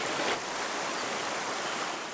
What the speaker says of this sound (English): The river tumbles over basalt rocks and old layers of ash and lava